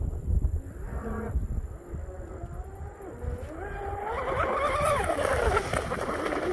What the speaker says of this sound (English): Motor sounds good.